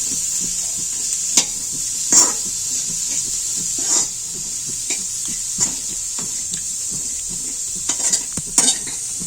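Carrots, onions and other vegetables for a vegetable soup sautéing in a pan, a constant bright sizzle broken by repeated scraping stir strokes and utensil knocks, close and clear with no talk.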